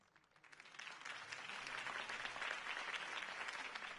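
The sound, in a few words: applause in a video game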